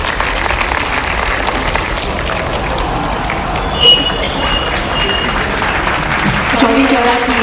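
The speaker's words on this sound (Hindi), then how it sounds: "जोरदार तालियों से स्वागत करिए।" A festival audience gives a long, loud burst of applause, continuous dense clapping from a big outdoor crowd at the Chauri Chaura Mahotsav, steady and close for over seven seconds, with a faint voice briefly rising over it.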